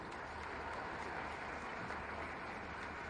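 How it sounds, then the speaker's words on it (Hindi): Light applause from an audience at a ceremony for a Sainik School in Gorakhpur, Uttar Pradesh, a steady dense patter of many hands clapping softly throughout, fairly distant and even in level. "बहुत हल्की तालियां हैं गोरखपुर वासियों"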